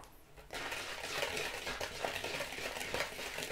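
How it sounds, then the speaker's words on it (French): Flour being stirred bit by bit into cookie dough in a bowl, producing soft, continuous scraping and mixing sounds, quiet and close, that begin after a brief silent start. "je vais rajouter la farine petit à petit et mélanger au fur et à mesure"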